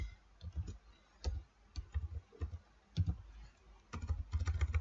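Keys clatter on a computer keyboard in irregular bursts of quick clicks and soft thumps, close-up typing with short pauses, no voices.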